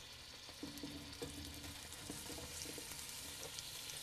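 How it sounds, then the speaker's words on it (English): Steady crackling sizzle of green pepper and garlic frying in a hot pan, with faint clinks of a utensil stirring now and then. "Ah, that nice sizzle."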